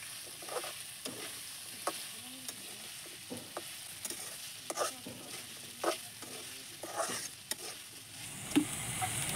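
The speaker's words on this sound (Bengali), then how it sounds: "আর দিয়ে দিচ্ছি কাঁচামরিচ কুচি।" Chopped green chilies stir-fried with chicken and vegetables for a noodle dish, giving a low continuous sizzle broken by repeated spatula scrapes and taps against the pan at an uneven rhythm, close and quiet, with no voices.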